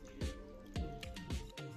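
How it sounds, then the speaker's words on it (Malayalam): Water is poured into a mixer jar holding rice and flattened rice, heard as a few short dripping, splashing glugs arriving in a quick uneven rhythm, close and quiet. "നമുക്കിത് അരയ്ക്കാൻ ആവശ്യത്തിനുള്ള വെള്ളം ചേർത്ത്"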